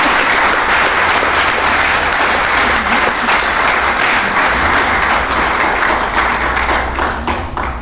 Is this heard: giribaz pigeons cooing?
no